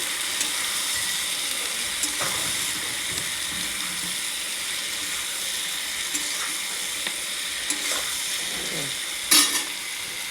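Vegetables with turmeric and salt stir-fried in a pan for a bottle-gourd-greens curry with potato, beans and eggplant, a constant close sizzle broken by scattered spoon scrapes and a sharper clack near the end.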